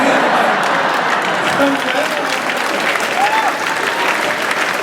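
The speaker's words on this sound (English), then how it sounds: "ladies are clapping" Women in a comedy club audience clap in a loud, continuous burst, with scattered whoops and voices mixed into the applause.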